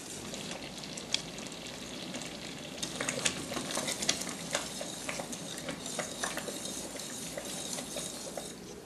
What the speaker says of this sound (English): mix it all in, get that sugar all in there good, cook it in